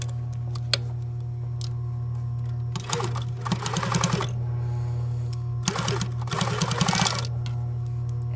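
Sewing machine stitching a seam on a movie costume, two separate runs of rapid rattling stitches under a steady motor hum, close and clear with a few isolated clicks between; no talk.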